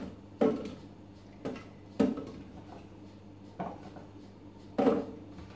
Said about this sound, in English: So we're going to put that all into the TC Pro M bowl.